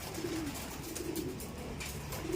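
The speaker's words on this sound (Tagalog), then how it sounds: "Ayan ang mga ibon natin, oh." Soft pigeon coos repeat at a low pitch over a steady background murmur, fairly faint and unhurried, after rain.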